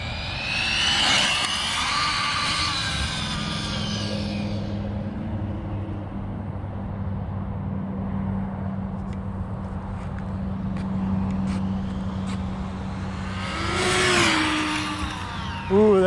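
An ARRMA Felony RC car fitted with a 27t pinion makes a full-throttle speed run, its high whining motor rising and fading as it passes at a distance, loud at the start and again near the end, with a quieter steady hum between.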